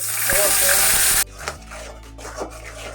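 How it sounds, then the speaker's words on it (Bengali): A pan of vegetable curry with mustard and black cumin paste hisses and sizzles loudly up close for about a second, then drops off sharply to quieter bubbling and scraping stir sounds. "তরকারিটা আমার যে বলক এসে গেছে"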